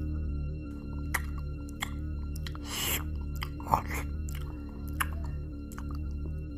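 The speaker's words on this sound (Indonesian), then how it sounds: "suara layaknya hewan yang tengah melahap tulang belulang. Gigitannya, decapannya membuat Erka ketakutan" An animal devours bones, heard as close, wet chewing and gnawing with irregular crunches and smacks over a steady low hum, with no talk.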